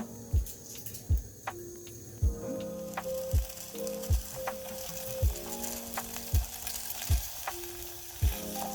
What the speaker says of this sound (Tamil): சவ்வரிசி இந்த பதத்துக்கு வறுத்தெடுக்கணும்.